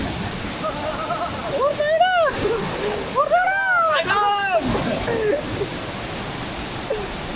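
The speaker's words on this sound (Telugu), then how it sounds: "నేనైతే మళ్ళీ వెళ్ళాను వాటర్ ఫాల్స్లోకి." Water pours and splashes steadily at Kaigal waterfall, a broad continuous rush in the open air, with voices calling over it partway through.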